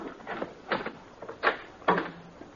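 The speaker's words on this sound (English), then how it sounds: "While you open the door, you ain't got a thing to worry about." A door opens in an old Western radio drama with several wooden knocks and creaks in quick succession, close and moderately loud, with no talk over it.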